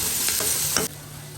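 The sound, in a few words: frying tomato in a pan for paneer curry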